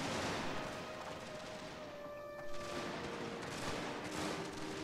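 A video game battle with mortars and gunfire crackles in a continuous dense, faint stream of distant shots and rattling volleys, with a slight swell partway through.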